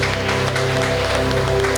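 Church congregation applauding during a worship service, a loud continuous patter of hands heard over sustained organ or keyboard tones, with no break across the short stretch.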